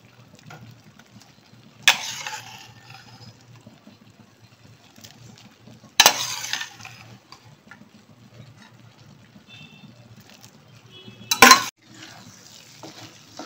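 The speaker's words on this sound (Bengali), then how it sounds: "এইবারে যে পাস্তাটা আমি সেদ্ধ করে রেখে দিয়েছিলাম সেই পাস্তাটা এবার আমি এর সঙ্গে দিয়ে দেবো" Boiled pasta tipped into a pan of sweet corn tomato sauce and stirred, with three sharp clattering scrapes of a utensil against the pan spaced seconds apart over a quiet low simmer.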